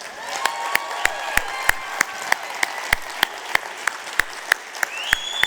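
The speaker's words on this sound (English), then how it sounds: "Can we give a huge round of applause for all of our leaders who came up and presented today?" Audience applause at a corporate recognition event, a steady wash of many hands clapping with regular sharper rhythmic claps cutting through, some whoops and raised voices mixed in, continuous throughout.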